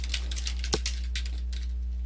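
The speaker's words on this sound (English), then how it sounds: "I'm just going to type a little bit of content on here" Quick, irregular keystrokes on a computer keyboard, a steady patter of close clicks over a low electrical hum, with no voices.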